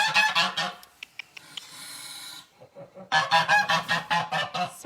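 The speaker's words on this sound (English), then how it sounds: "So this one goose is pretty loud" A goose honks loudly and repeatedly on a farm, close by, in rapid strings of harsh calls, with a few short isolated honks and a brief quieter stretch in between.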